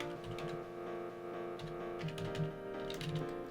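Typing on a computer keyboard while setting up a LanSchool student group policy, a run of fairly quick, soft key clicks over a steady hum, continuing alone with no voices for a few seconds.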